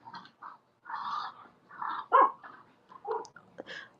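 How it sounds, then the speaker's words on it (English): A small pet dog barks and yips in short, agitated bursts, loud and close, with a brief whimpering note mixed into the excited volleys. "Sophie, whenever she get in these tizzies where she going and barking"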